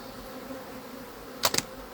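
Agitated honey bees buzz around an opened beehive during a hive split, a steady low drone with a couple of sharp, close buzzing passes near the end.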